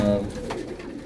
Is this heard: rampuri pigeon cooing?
yes